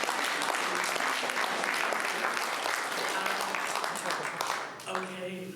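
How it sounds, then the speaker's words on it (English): An audience at a talk breaks into loud, sustained applause, a dense wash of clapping that fades near the end as voices come in. "I'd like a round of applause on that"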